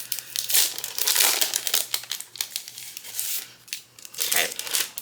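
Double-sided tape packaging for cardmaking is handled close up, with bursts of crinkling and rustling plastic that come and go in irregular waves.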